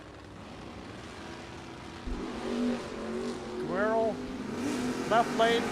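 Drag race Camaros, a 1978 and a 1967, launch at the U.S. Bracket Nationals. Engines roar and climb in rising revving bursts over a steady, loud track background.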